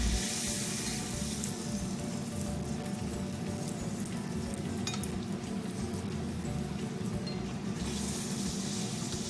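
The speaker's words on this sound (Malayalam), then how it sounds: "ഇതേപോലെ നമുക്ക് ബാക്കിയുള്ള പൂരികളും പൊരിച്ചെടുക്കാം." Poori deep-frying in hot oil, a steady, loud sizzle and bubbling that runs unbroken throughout with no voices.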